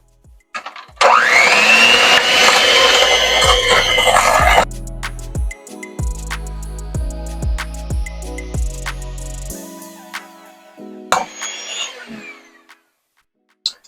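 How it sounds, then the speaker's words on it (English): An electric hand mixer beating butter, sugar and eggs for a banana coffee cake, a loud steady whirring for a few seconds, then short bursts of knocking and bumping as it stops and restarts. "we mixed that with our hand mixer"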